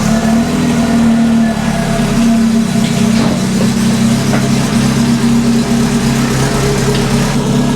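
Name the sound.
car engine starting and idling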